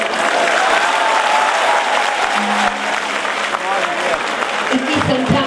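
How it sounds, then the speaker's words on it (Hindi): A large crowd at a religious fair gathering, there to hear a storyteller, bursts into loud, sustained applause that fills the space continuously, with voices faintly mixed in beneath the clapping. "एक बार जोरदार तालियां आप अपने आप के लिए बजाएं।"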